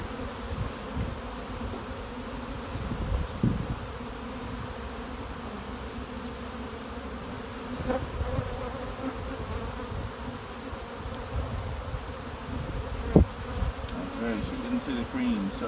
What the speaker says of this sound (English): Half the bees on these frames are drones.